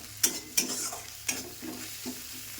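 Spices and ginger-garlic paste frying in a pan, with a few sharp scraping stirs against the pan over a low, steady sizzle.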